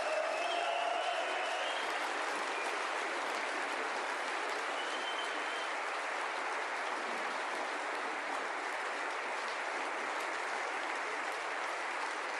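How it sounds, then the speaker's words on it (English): Continuous audience applause at a snooker final, heard from a distance, steady and fairly soft, a wash of clapping with a faint voice briefly near the start. "they're going to applaud for a while"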